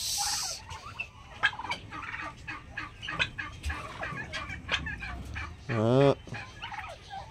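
A turkey gobbles loudly and close by while eating grapes, a rapid warbling burst near the end, amid scattered clucks and pecking noises.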